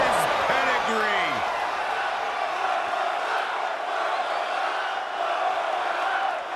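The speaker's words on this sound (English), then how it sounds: "The sound of this crowd is deafening, and he's asking for more." A large crowd in the wrestling video game WWE 2K22 roars loudly and steadily, a dense wall of cheering with a few sharp thuds early on.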